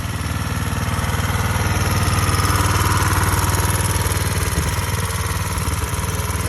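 Small Coleman minibike engine with front and rear suspension idles steadily nearby, a continuous loud chugging rumble with a fast even pulse and no talking.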